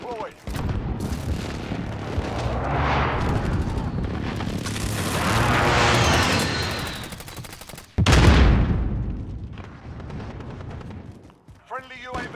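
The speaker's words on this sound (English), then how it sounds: "Enemy precision airstrike." Rapid bursts of gunfire and heavy explosions from an enemy precision airstrike in Call of Duty, a dense loud barrage that swells, breaks off sharply and slams back in, with voices talking underneath.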